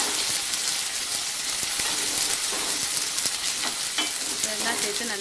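Shallots and around 30 to 40 garlic cloves sauté in hot oil for a garlic curry, a dense, continuous sizzle with scattered crackles and the scrape of stirring, close and loud.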